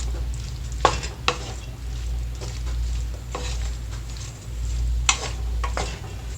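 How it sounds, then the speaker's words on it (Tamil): Tomato and turmeric powder are stirred in a pan, with steady sizzling and scraping strokes and a few sharp clinks of the spoon against the pan. No one speaks. "இப்போ இது நல்லா ஒரு தடவை மிக்ஸ் பண்ணி விட்டுக்கலாம்."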